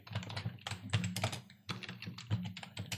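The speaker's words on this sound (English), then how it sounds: "as you start typing" Rapid, uneven keystrokes on a computer keyboard while a document is typed in Word 2019, clicking steadily and close up for about three seconds with a brief pause midway, no talk.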